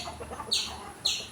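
Hens in a backyard coop give two short, sharp clucking calls about half a second apart, fairly close and clear over a faint background, with no talking.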